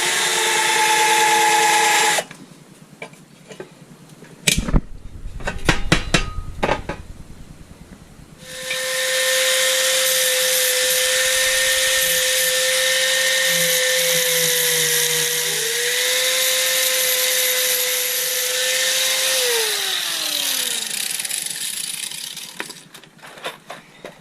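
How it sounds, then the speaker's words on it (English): Power drill boring holes for mounting bolts on a motorcycle sissy bar, with short bursts of clattering handling noise followed by a long, steady, loud whine that shifts pitch near the end and winds down. "It's going to drill to mount some nuts and bolts"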